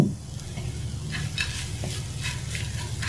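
Coconut being stirred with date jaggery in a pan for dudh puli pitha, a steady low sizzle with soft scraping strokes of a spoon running throughout, close and alone with no voices.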